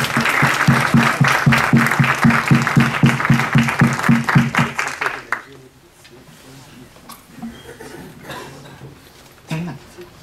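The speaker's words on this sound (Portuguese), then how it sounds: "gostaria que todos, se possível, recebessem com uma salva de palmas aí de pé a nossa convidada Gladys" A standing ovation for the guest Gladys at an SUG Curitiba gathering: loud, dense rhythmic clapping from a large audience for about five seconds, then fading into quiet room noise with a brief late burst.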